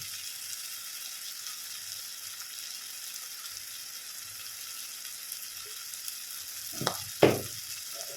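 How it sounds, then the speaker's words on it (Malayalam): Tomatoes and green chillies sautéing in a pan with turmeric, chilli and coriander powders for an onion curry, giving a steady soft sizzle throughout with a couple of brief louder stirring scrapes near the end; no talking. "തക്കാളിയും പച്ചമുളകൊക്കെ വഴണ്ട് വന്നിട്ടുണ്ടെങ്കിൽ നമുക്ക് പൊടികൾ ചേർത്ത് കൊടുക്കാം"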